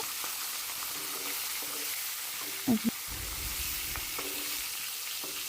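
Fish frying in hot oil in a wok for Bengali mustard fish, a steady broadband sizzle throughout with a couple of brief utensil knocks near the middle; no talking.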